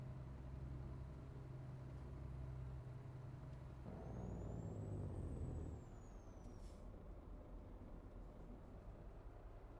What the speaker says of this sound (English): I just like the sound of the jake brake